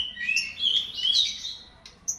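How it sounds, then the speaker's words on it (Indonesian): A white-rumped shama chick chirps rapidly and close by, a string of high, thin squeaky calls, then a short pause and one final chirp. "ini merupakan anakan murai kita"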